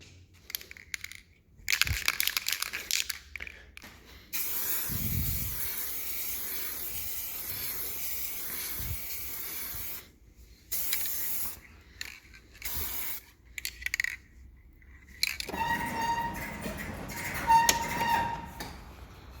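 Aerosol can spraying black gloss paint onto a mk2 Golf rocker cover, long close hissing bursts separated by quiet gaps, with rattling and handling noise between sprays.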